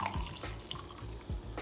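Coffee poured into a mug drips off its side, a few soft splashy drips and trickles, close and quiet, with no talk.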